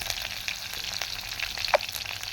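Mustard seeds, chopped green chilies and urad dal fry in hot oil in a clay pot over a wood-fired stove, hissing steadily with scattered crackles and one sharp pop.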